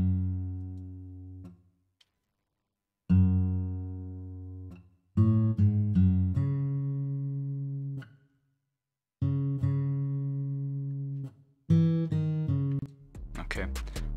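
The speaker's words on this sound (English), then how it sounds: "first I added a guitar, and then I think I just layered it with a bass" Low electric guitar and bass notes play short sustained phrases, separated by brief silences, ending in a burst of faster, brighter notes.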